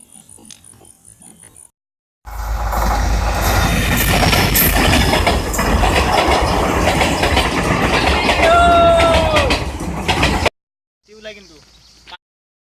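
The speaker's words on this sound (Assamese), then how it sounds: "ট্ৰেইনত মুম্বাই চলি আহিছে" A Rajdhani passenger train to Mumbai roars past loudly for several seconds, wheels rumbling and clattering, with a rising squeal near the end before it cuts away.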